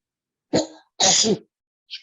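A single sharp sneeze bursts out after a brief voiced sound, followed by silence and the start of another voice at the end.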